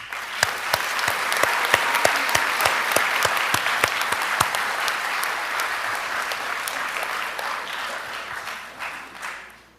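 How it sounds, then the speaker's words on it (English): Audience applause at a Belton ISD school board meeting: a moderate crowd claps in a steady burst, with a few sharp, close claps standing out early, then it gradually tapers off and fades to quiet. "Let's give them a round of applause."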